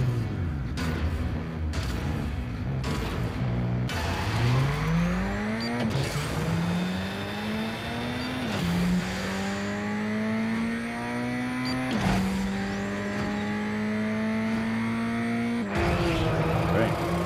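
Race cars in the mobile racing game Asphalt StreetStorm: engines rev up and shift through gears in rising whines, with tire squeals and road noise, loud and continuous throughout.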